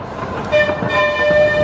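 The Pleasure Beach Express miniature train at Blackpool Pleasure Beach sounds a sustained tooting horn over a rolling rumble, loud and fairly close.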